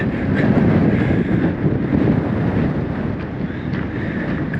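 Strong wind buffets the microphone at the Cape of Good Hope, a continuous loud roar with heavy low rumble and gusty swells throughout, no voices.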